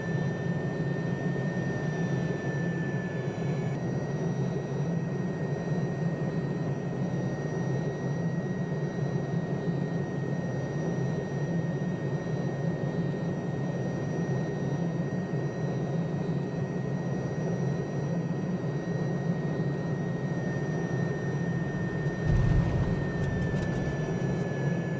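An Alouette III helicopter in Microsoft Flight Simulator drones on with a steady turbine whine and a constant engine roar while coming in to land in a remote area. A brief low thump sounds near the end.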